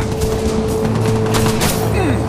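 Enemy gunfire crackles in the Watch Dogs video game, rapid overlapping shots forming a loud continuous fusillade over droning engine and music tones.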